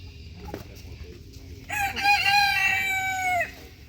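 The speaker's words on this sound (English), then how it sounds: "That's a rooster." A farm rooster crows once, loud and close, a single drawn-out cock-a-doodle-doo lasting under two seconds, with quiet farmyard background before and after.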